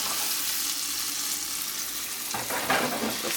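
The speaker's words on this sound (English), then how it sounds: "So saute that. Love a good sizzle." Minced garlic sautéing in a hot pan gives a steady, close sizzle with a soft hiss that swells slightly toward the end, and no voices are heard.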